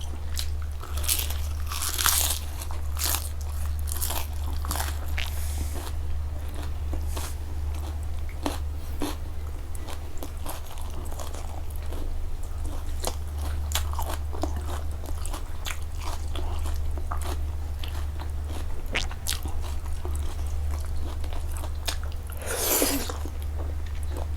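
Close-up eating of spicy Thai instant noodle salad with raw and blanched seafood, with steady wet chewing, crunchy bites and slurps over a constant low hum, and a louder crunch near the end.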